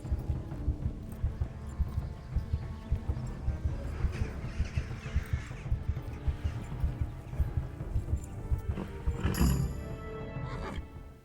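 Rapid hoofbeats pound steadily throughout, a galloping horse in the video game Kingdom Come: Deliverance amid a busy, rumbling game soundscape, with a brief louder burst near the end.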